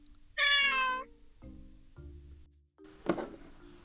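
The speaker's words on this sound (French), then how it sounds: "Un chat." A cat meows loudly and clearly, one drawn-out meow followed by softer tones, set among a children's educational animal sequence.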